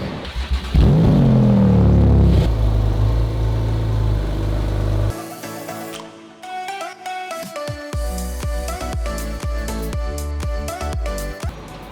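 A Porsche 911 GT2 RS with an aftermarket JCR exhaust fires up with a loud rasping roar, then is blipped through a series of sharp, aggressive revs up close.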